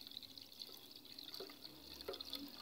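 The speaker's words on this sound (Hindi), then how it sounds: "अब मैं इस पतीले में आराम से पानी शामिल करूंगी" Water poured slowly into a pot of semolina while cleaning it at home, a soft, continuous trickle with small drips and splashes, fairly quiet and close.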